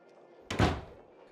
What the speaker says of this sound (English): Harlow slams the door in Josie's face as she exits.